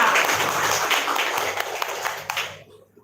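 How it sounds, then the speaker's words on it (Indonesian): An audience at an education gathering in Jakarta claps together in a dense burst of applause that tapers off and stops after about two and a half seconds. "Tepuk tangan untuk kita."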